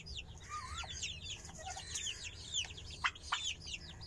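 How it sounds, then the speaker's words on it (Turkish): Many chicken chicks peep in quick, high chirping bursts near a turkey hen in a cold enclosed pen, with a few louder sharp calls toward the end over a faint background hum. "Anne hindi, yavrular tavuk civcivi."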